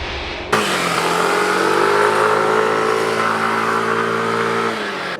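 A Yamaha Cygnus Gryphus scooter engine catches and pulls up into a smooth, rising drone of acceleration, loud and close, holding steady for several seconds before easing off slightly at the end.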